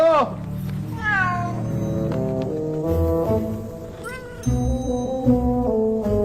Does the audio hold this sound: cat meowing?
yes